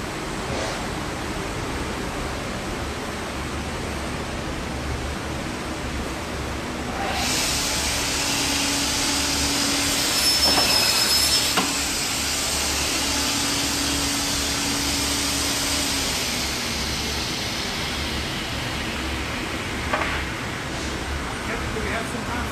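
An automatic vertical panel saw runs a 1200 millimeter cut through a panel. A broad, steady rush of motor and blade noise rises partway through and holds for several seconds before easing back to a lower whir, with faint voices in the background.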